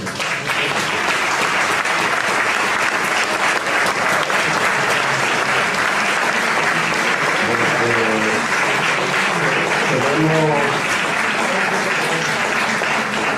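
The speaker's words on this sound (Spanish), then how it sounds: "un aplauso" An audience at a talk on risk premiums and the Black Legend breaks into sustained applause, loud and continuous throughout, with a few voices briefly audible beneath it.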